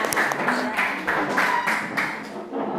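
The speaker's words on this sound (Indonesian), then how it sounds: "Tepuk tangan untuk kita semua" A class of senior high school students claps together in short, even bursts, a steady rhythmic pattern of group hand-claps repeating at close range and filling the room.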